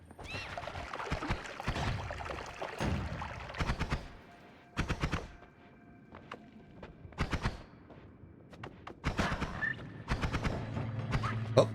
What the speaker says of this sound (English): the automatic firing wand here is a pretty good combat option